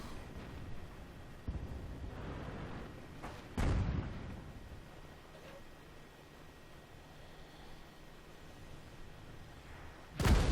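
In World of Tanks, an enemy tank's shell slams into the player's M24 Chaffee light tank, heard as a few heavy, booming impacts and thuds rising out of a low rumbling engine drone, the loudest near the middle and end.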